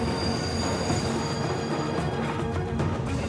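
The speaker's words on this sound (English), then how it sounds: "the brakes on each car, slowing the train down" Heavy freight train braking on a steep mountain grade, metal wheels squealing in steady high tones over a continuous loud rumble of rolling railcars, with no voices.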